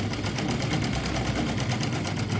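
A sewing machine runs steadily, stitching a double seam along the shoulder of a child's baba suit (jhabla), its rapid needle rhythm loud and continuous with a motor hum beneath, no talking.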